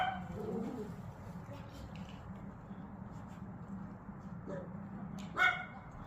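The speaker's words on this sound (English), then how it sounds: "Neighbors with their feisty dogs, that's what I'm talking about." Neighbors' feisty dogs bark a few times from a distance in a residential yard, the barks spread out over a steady outdoor background with birds faintly cooing.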